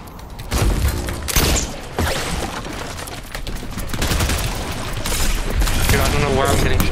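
Rapid Fortnite Battle Royale gunfire fills the scene with dense, loud bursts and overlapping shots, while players talk excitedly over the shooting.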